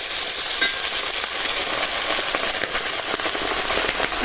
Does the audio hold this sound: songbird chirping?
no